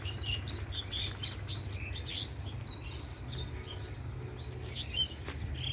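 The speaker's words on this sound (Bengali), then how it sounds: "কিচিমিচির আওয়াজটা শুনতে খুব ভালো লাগে।" Small birds chirp and tweet in a rural morning scene beside a highway, scattered calls repeating across the clip over a steady low hum of distant traffic and wind.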